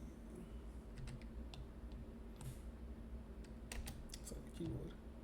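Typing on a computer keyboard, a quick irregular run of clicks and taps at close range against a low steady room hum, no talk.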